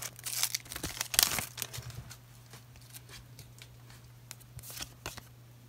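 A Pokémon Shining Fates booster pack, stubborn to open, torn and crinkled close up, with bursts of foil rustling and ripping at first that fade to scattered crackles and handling noises.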